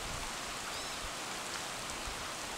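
Rain falls steadily on an afternoon fishing outing at Chahuatlán, a constant close hiss of drops on the surface with no break and no voices.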